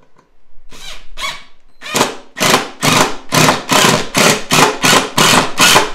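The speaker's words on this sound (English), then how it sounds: "I'm going to go ahead and I'm going to take my 3 1/8 inch Torx head screws. I'm going to go ahead and get them started." A screw gun drives 3 1/8 inch Torx head screws into a 2x4 board while building a chair, a loud close run of about a dozen short bursts, sparse at first and then coming in steady quick succession.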